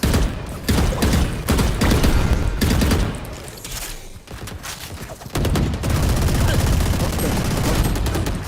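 Video game gunfire: dense bursts of rapid shots and a fusillade of loud reports, with brief gaps between volleys and a quieter stretch before firing resumes.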